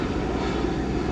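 Engine roar from a Bombardier Global 6000 business jet, a steady, broad rumbling drone that stays constant and fairly loud for the whole brief moment, with no voices.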